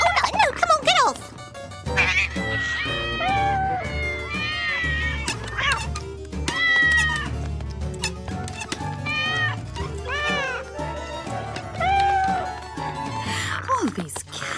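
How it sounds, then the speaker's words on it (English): Several cats meow repeatedly in a cluttered kitchen scene, their overlapping cries rising and falling close by, mixed with a man's muttering and other household noise. "All these cats."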